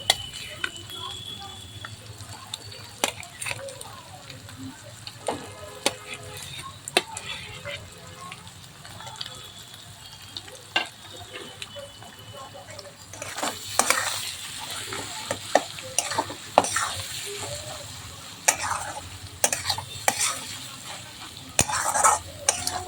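Boiled potatoes are fried and stirred in a pan with fried egg for egg patties filling, giving a steady sizzle with frequent scraping and clinking stirs. The sound is close and grows busier and louder in the second half, with no talking.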